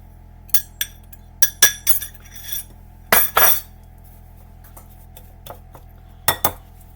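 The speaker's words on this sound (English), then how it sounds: "I'm dumping that into my drained pineapple." A flour and sugar mix is tipped into drained pineapple and stirred, making scattered bright clinks of a utensil against a dish, some short scraping bursts and quiet gaps between them.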